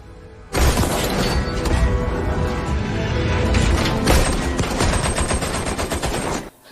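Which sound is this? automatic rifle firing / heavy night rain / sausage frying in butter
automatic rifle firing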